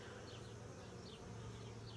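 Honey bees hum around an open hive in a beekeeper's yard, a soft, continuous buzz of many insects with occasional louder passes of individual bees close by.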